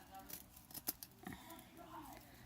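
Scissors snip through green glitter craft material in a few short, quick cuts, fairly close, with faint crinkling between them and no talk over the cutting.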